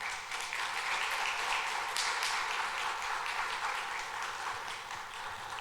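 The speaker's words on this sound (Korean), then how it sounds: "박수로 환영해 주시기 바랍니다" Dense, steady applause from a church congregation during a Wednesday worship service welcoming a missionary, continuous clapping heard at moderate distance.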